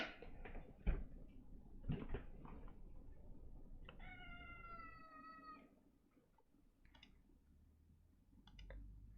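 A pet cat gives one clear, drawn-out meow in the middle, preceded by loud knocks and clicks close by, with quiet room noise around it.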